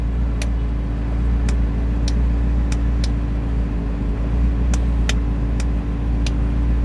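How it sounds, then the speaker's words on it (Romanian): The air suspension compressor of a BMW E21 runs as it restores pressure, giving a steady low mechanical hum with a row of sharp, irregularly spaced ticks over it. "Compresorul își reface presiunea, de-aia lucrează."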